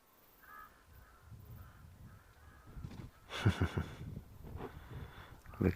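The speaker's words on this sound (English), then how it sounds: "I'm just hearing some crows flying over." Crows caw in a few loud, ragged bursts as they fly overhead in an outdoor nature setting on a hot day, rising out of quieter background sound.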